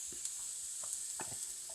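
Shrimp fry in oil with a quiet, continuous hiss broken by small pops and stirring scrapes in a home kitchen.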